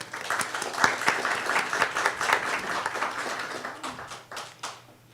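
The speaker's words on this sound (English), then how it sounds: "Please give yourself a round of applause." Applause from the audience at an affordable housing rededication ceremony, a moderate crowd clapping steadily for about four seconds before fading out.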